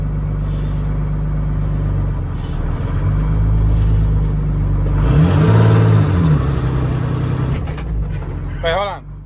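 Detroit Diesel 671 inline engine in an International cabover truck bogging down on a steep hill, a loud low droning labor that dips and strains, with rising tonal whine near the end and voices talking over it.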